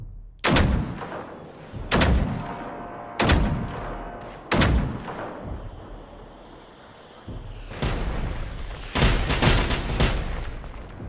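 Sniper rifle shots in the Generation Zero video game, six or seven loud sharp cracks spaced a second or two apart, each trailing into a rolling echo, with a couple fired closer together near the end.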